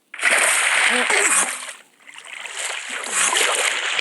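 A bucket of water splashes in the Minecraft video game, giving a loud sloshing burst, a brief lull, then a second longer watery rush, with a voice mumbling faintly along.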